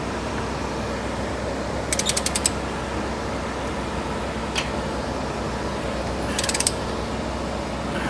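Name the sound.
tightening Cybertruck wheel spacer lug nuts with wrench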